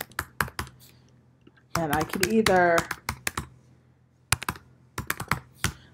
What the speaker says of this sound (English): I could either type them in myself, or I could copy and paste.